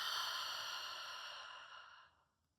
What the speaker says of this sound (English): on your next exhale, I want you to think about breathing out a mist on the mirror